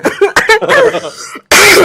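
A cough bursts out near the end, short and loud and close by, just after a brief run of mixed vocal sounds.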